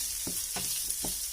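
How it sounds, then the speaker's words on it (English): A spatula stirs food in a hot pan, giving four short scraping strokes at a steady pace over a soft, continuous sizzle close by. "stir with the spatula and stir stir it with the spatula"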